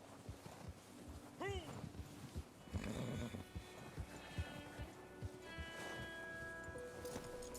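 Horse hooves clip-clop in a video game, a steady run of hollow knocks mixed with wind noise, a snort and speech-like sounds.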